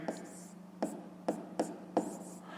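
A pen writes math on paper in quick scratchy strokes, five short distinct bursts spaced irregularly, faint and close in a quiet room.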